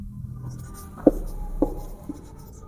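Writing out a linear equation in a maths lesson: soft scratching strokes of a pen or chalk, with a few distinct taps at irregular intervals, close and quiet with no speech.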